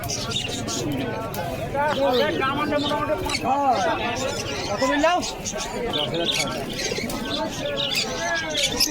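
Caged pigeons at a busy bird market coo and flutter close by, their repeated warbling calls layered over a crowd's chatter and a voice speaking nearby.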